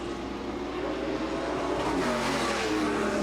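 Race cars accelerating together off a start at All American Speedway, a dense, steady engine roar close by that builds slightly in intensity, with no talk over it.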